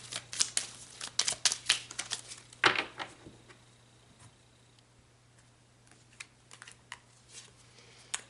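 Tarot cards are shuffled and pulled in quick bursts of crisp riffling and flicks, loudest early on, then sparser soft taps and snaps in a quiet room.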